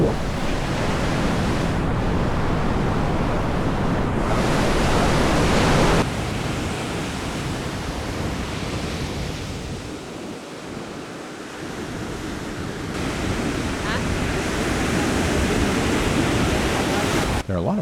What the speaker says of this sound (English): Welcome to what is arguably the greatest beach in California, Carmel Beach.